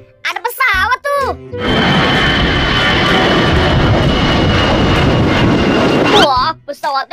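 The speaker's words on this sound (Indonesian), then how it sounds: "lihat teman-teman, ada pesawat tuh" A large airplane passes overhead in a steady, loud roar lasting several seconds. Children's voices talk just before and after it.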